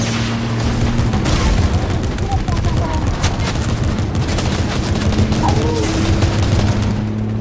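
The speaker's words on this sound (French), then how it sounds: "T'es bien en train de tirer au sniper." Rapid sniper rifle shots in the Fortnite video game, loud repeated gunfire bursts over a constant dense in-game din with low humming tones, no pauses across the stretch.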